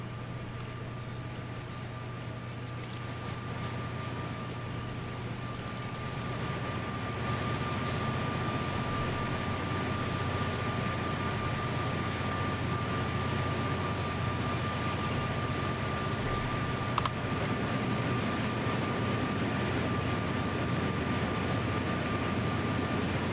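A class 66 diesel locomotive in a train simulator rumbles steadily in a low drone with a constant whine above it, the engine note building slightly after a few seconds and holding, with a brief click near the end.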